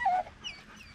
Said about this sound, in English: whenever I have a situation like this where he is getting barky at something